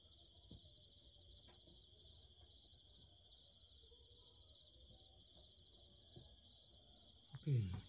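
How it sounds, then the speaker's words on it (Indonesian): Crickets chirp on a mountain trail at night in a steady, high-pitched, continuous trill that is faint and distant, with a brief louder rustle near the end. "Ya saya dengar cuma suara jangkrik krik doang nih"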